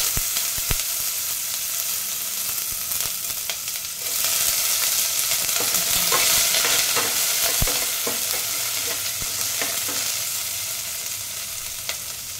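Chopped onion dropped into hot oil with mustard and cumin seeds for a ridge gourd masala curry, giving a loud, continuous close-up sizzle with scattered sharp pops and stirring scrapes, no voices.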